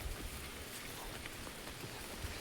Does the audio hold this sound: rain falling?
yes